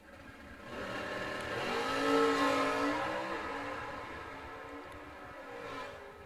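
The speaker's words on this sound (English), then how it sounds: "His A-Stock 69 Camaro SS. Big block Chevrolet for power." A 1969 Camaro SS drag car in A-Stock trim with a big-block Chevrolet engine making a pass at a drag strip: a sustained engine roar that swells to a peak then gradually fades, heard without any voices.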